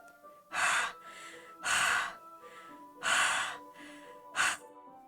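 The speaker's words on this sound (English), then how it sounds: "What's that noise? It's coming from around the corner. It sounds like breathing." Breathing sound effect from the horror-styled game Doki Doki Literature Club: four loud, heavy breaths or gasps, spaced roughly a second apart, close and isolated over a faint background hum.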